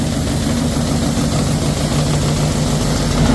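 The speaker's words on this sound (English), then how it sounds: "We'll let the auger clean out a little bit." A grain seed auger running empty to clean out, a steady loud motor drone with a low rumbling hum that holds constant throughout, close by and with no talk.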